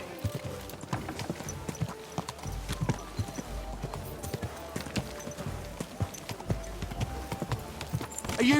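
Steady clip-clopping of a horse's hooves in Kingdom Come: Deliverance 2, a brisk, even run of close hoofbeats continuing throughout, mixed with faint background game ambience and no voices.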